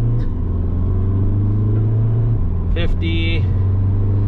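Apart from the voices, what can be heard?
2013 Volkswagen Jetta Sportwagen TDI diesel accelerating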